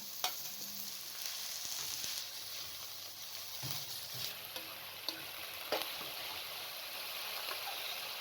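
Steady sizzling of minced goat or mutton meat frying with lightly browned onions, soft and continuous, with occasional light stirring knocks.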